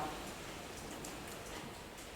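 Rain falls outdoors behind a house as a soft, steady, even hiss with no voices.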